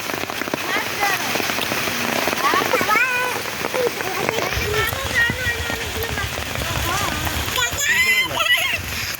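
Steady rain pours onto a village pond with dense patter and splashing, while voices and children's calls are heard throughout over the downpour.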